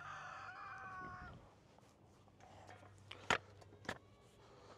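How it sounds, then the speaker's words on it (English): Roosters crow in the distance, a long call at the start followed by two sharper crows later, over quiet outdoor background noise. "while listening to my roosters have a cock-a-doodle-doo"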